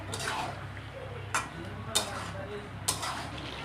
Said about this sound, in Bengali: এখন সব ভালো মতন একসাথে কষাচ্ছে।